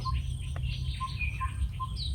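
A malachite kingfisher calling in bush, short high chirps repeated at intervals over a steady low hum of insects, fairly faint and moderately close.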